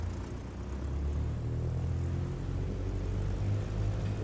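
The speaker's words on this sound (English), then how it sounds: "Just a fun plane to fly." A Piper J3 Cub with a C65 engine in flight, its propeller engine giving a steady, low droning rumble heard close and continuous with no voices.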